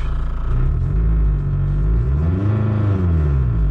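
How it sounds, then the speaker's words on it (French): Renault Scenic 1.9 engine revving up while stationary, a loud low rumble rising and falling in pitch, with heavy vibration noise throughout the car from worn engine mounts. "avant même de passer un rapport, je vais accélérer, voir si ça s'atténue"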